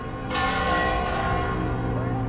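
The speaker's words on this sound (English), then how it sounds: "oh, the lovely bells." Church bells in Alcobaça, Portugal ring out loudly near midday, their rich, sustained tones overlapping and resonating continuously after starting abruptly.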